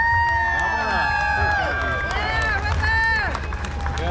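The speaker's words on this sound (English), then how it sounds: "Let's have one more big round of applause for River." A crowd at an Oklahoma noodling tournament's catfish awards cheers and whoops loudly for a young winner, with excited voices and shouts layered over scattered clapping.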